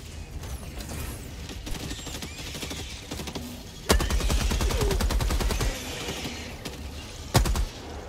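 Rapid turret gunfire in the video game Helldivers 2, bursts of repeated shots with clicking mechanical sounds between them, loud and close, with no talk over it.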